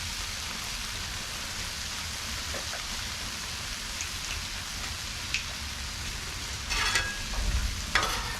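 Chicken chile con queso taco filling being stirred as it fries on an outdoor grill, with a steady sizzle throughout and louder scraping strokes near the end, no talking.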